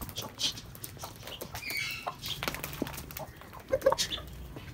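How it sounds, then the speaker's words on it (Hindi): Soft, scattered clucks and scratchy pecking sounds from several chickens nearby, with a small burst of clucking toward the end. "ये सारी मुर्गियाँ वगैरह जो है ना खा लेगी"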